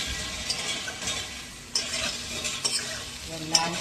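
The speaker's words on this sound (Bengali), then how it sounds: "লাল করে আলুগুলোকে আমি এইভাবে ফ্লেমটাকে হাই করে ভাজতে থাকি" Potatoes fry on a high flame in a pan while being stirred, a steady close sizzle broken by sharp scrapes and clinks of a utensil against the pan.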